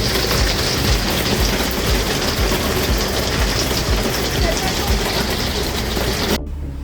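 Heavy rain falls at Lake Mavrovo in North Macedonia, a steady dense hiss with low rumbling underneath that continues evenly and loudly before cutting off abruptly near the end.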